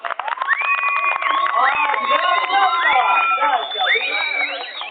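A lively crowd at a dance competition cheering and whooping, with overlapping shouting voices rising and falling in a continuous, excited roar.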